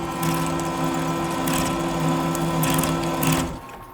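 A lathe takes a heavy cut at doubled feed rate, half-inch depth at 144 RPM, producing a loud, steady mechanical drone with a constant tonal hum that holds throughout and eases off at the end.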